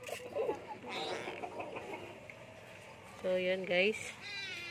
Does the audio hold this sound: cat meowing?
yes